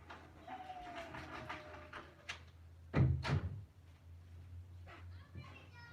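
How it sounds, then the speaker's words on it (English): An indoor door is pushed shut, landing as a single heavy thud with a short rattle midway, set against faint room hum and soft movement before and after. "Let me close the door."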